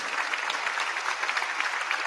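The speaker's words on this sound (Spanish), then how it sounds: "Aplauso para los trabajadores de la Galería de Arte Nacional" Audience applauding workers of the National Art Gallery at a FILVEN 2022 book fair recognition event, a steady dense patter of many hands clapping at moderate distance, continuous and even throughout.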